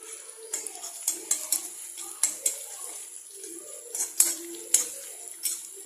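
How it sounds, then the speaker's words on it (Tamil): Ingredients sauté in a pan, heard as repeated metallic clinks and scrapes of a utensil against cookware over a faint background hiss, close and irregular. "போட்டுட்டு நல்லா வதக்குவோம். ரொம்ப வதங்க தேவையில்லை, கொஞ்சமாக இது வதங்கட்டும்."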